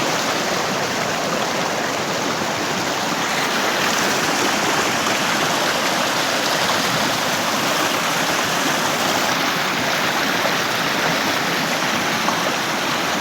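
A stream flows steadily at a gold-prospecting spot, its water rushing in a constant, close, loud wash with no pauses and no voices.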